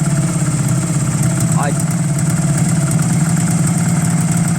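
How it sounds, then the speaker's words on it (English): A Honda CB250 motorcycle engine idles steadily up close, running on both cylinders, with a continuous low rumble and faint irregular pops; a voice speaks briefly over it. "So we are cooking on both cylinders. But that popping is not great."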